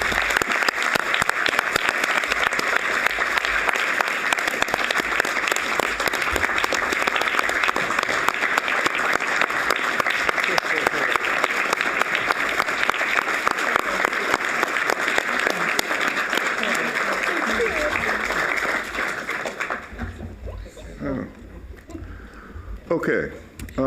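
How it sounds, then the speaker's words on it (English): An audience at a board of trustees meeting applauds donors with sustained, dense clapping close by for about twenty seconds before it dies away into a few scattered claps and room noise. "please give them a round of applause."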